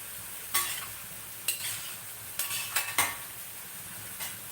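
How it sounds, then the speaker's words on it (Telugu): Long beans frying on high heat in a pan with no water added, a steady sizzle broken by a handful of sharp spatula scrapes and clinks against the pan, with no talking. "బాగా హైలో పెట్టి వేయించండి పచ్చిపోయేటట్లు"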